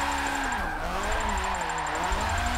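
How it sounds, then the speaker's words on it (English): Rotary-engined drift car in Forza Motorsport 7, its engine note rising and falling steadily through the whole stretch over a constant background tone. "I do like the sound of the rotary for sure."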